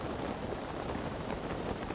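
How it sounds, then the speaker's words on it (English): Steady rain falling in an outdoor scene, a continuous dense patter that stays even and fairly loud from start to finish with no voices. "How am I supposed to light things on fire in the rain?"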